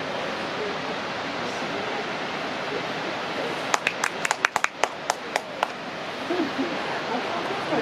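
A short burst of several sharp hand claps rings out over a constant rushing background roar, scattered and uneven for about two seconds before fading back into the noise.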